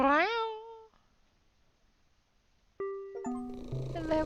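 A black cat in a cartoonish cat-themed video game gives a single rising, tonal meow near the start, followed by a pause and then bright chiming ding tones with soft game music.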